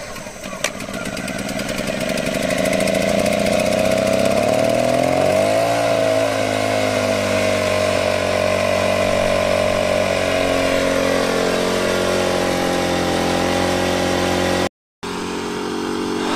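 A Denqbar DQ 1200 inverter generator runs steadily just after starting, its engine note loud and close with a rising, then settling hum, and a brief dropout near the end.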